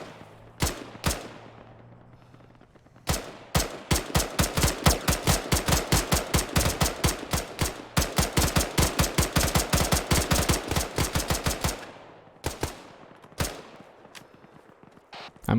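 Rapid, sustained suppressive gunfire aimed at Russian infantry in the military game Arma, a loud, dense volley of shots running for several seconds after a few isolated opening rounds, then tapering into scattered single shots.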